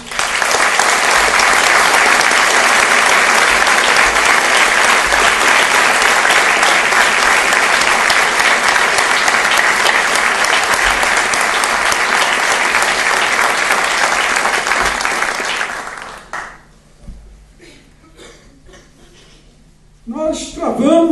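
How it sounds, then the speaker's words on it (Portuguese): A large audience at a Marxist lecture-course tribute event in Brazil applauds loudly and steadily for about fifteen seconds, then the clapping breaks off into near silence with a few scattered sounds before a voice resumes. "para os quais eu peço os aplausos de vocês todos"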